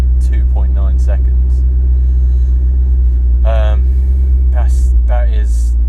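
The V8 engine of a McLaren 650S Spider while driving, a loud, steady low drone heard from the cabin, with a person talking intermittently over it.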